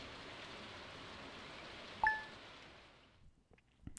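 Steady broadband rain patter in a farming video game, fairly quiet and continuous, with a brief clinking chime near the middle before the rain tapers off toward the end.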